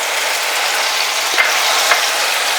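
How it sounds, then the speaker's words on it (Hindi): Tomatoes sizzle steadily in hot oil as green chillies go into the pan, with a couple of faint clicks partway through against the constant close frying hiss. "और 2-3 मिनट के लिए हम टमाटर को भूनते हैं"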